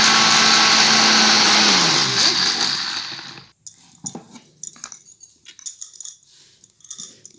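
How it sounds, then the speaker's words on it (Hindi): A kitchen mixer grinder whirs loudly, grinding 100 grams of almonds and 50 grams of cashews for sesame laddoos. The motor runs steadily for about three seconds, then spins down and stops, leaving scattered rattles and clicks of the nuts. "मिक्सी ऑन कर देंगे।"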